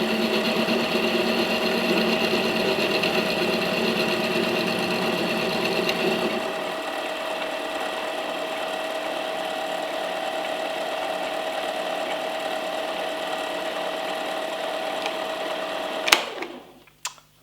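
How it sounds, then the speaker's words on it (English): A lathe runs in a workshop with a steady, tonal mechanical whine that drops to a quieter hum partway through, then ends with a couple of sharp clicks. "welcome to my lathe"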